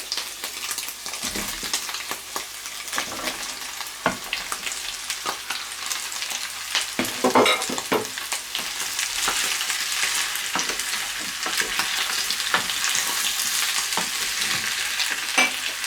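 Chopped vegetables with peas and spices sizzle steadily in a pan as a spoon repeatedly scrapes and clinks against it, stirring at an uneven pace.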